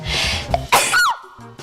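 A woman gives a single sharp, close sneeze with a quick breath before it and a brief exhale after.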